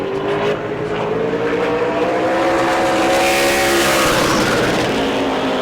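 A super late model race car roars past on a qualifying lap at a speedway, its engine note loud and sustained, rising as it approaches and shifting pitch as it sweeps by, with a faint tire squeal.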